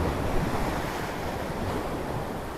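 Ocean waves roll in at a beach, a steady loud wash of surf with wind noise hitting the microphone throughout, close and continuous with no talk.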